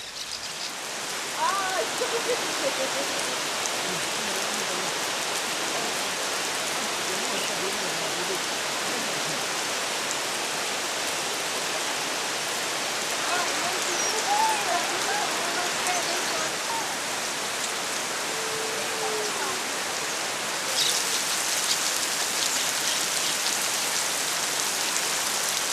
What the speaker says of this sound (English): It rained throughout the night, and nobody had much sleep.